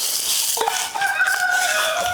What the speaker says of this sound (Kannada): ಇದೆಲ್ಲ ನಮ್ದು ಕೋಳಿ.